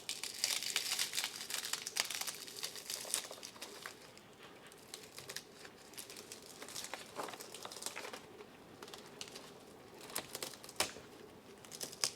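A dry, crispy red cataphyll is peeled away from a Philodendron El Choco Red plant, giving close, soft crinkling and crackling with small papery snaps that come and go, and no talking.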